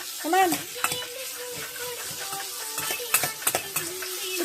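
Food being mixed in a hot pan, with a spoon scraping and stirring in short strokes over a soft, steady sizzle; close and moderately loud, with no talking.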